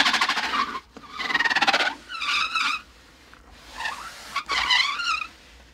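Foley prop recreating a car-chase tire skid gives a sequence of loud close squealing screeches, several separate bursts that rise and fall in pitch, with no voices.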